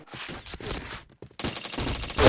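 Gunfire in the shooting game Point Blank, a run of rapid shots in two dense bursts separated by a short lull, close and fairly loud.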